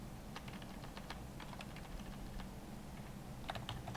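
Quiet, steady clatter of keys on a computer keyboard, a run of soft irregular clicks with brief pauses and a few quicker strokes near the end, close but faint.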